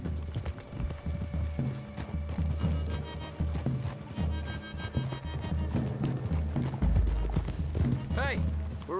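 Horse hooves clip-clop in a rhythmic gallop through a wooded clearing in Red Dead Redemption 2, with several horses close by, a whinny near the end and people talking over them.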